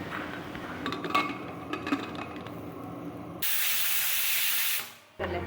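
Kitchen clatter and clinks give way to a loud, steady burst of hissing steam from a pressure cooker that lasts about a second and a half, then cuts off abruptly.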